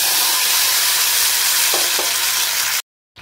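Tomato hits hot mustard oil with fried dried red chilli for a tomato chutney, giving a loud, close, continuous frying sizzle with a couple of stirring knocks before the sound cuts off abruptly.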